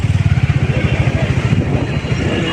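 A motorcycle engine putters close by at a crowded temple entrance, its rapid low thumping steady and loud before easing slightly as it passes.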